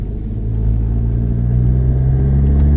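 A manual-transmission car engine revving hard while a learner driver pulls out in second gear, a loud, close, low rumbling drone that swells and holds steady with no talking.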